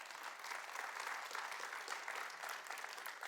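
Steady, dense applause from a church congregation fills the space at an even level throughout, with no voices standing out above the clapping.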